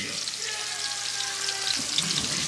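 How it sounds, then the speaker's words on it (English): Meat sears in a hot pan with a steady broad sizzle and crackle, close and moderately loud, while a faint tonal hum runs underneath for most of the clip. "So we'll get a nice little sear on both sides and finish it off."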